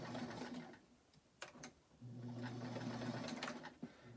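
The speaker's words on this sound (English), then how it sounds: "stick it in your sewing machine" A sewing machine stitches an N95 mask cover in steady, close-up bursts, running briefly, pausing, then humming along again at an even pace with no talking.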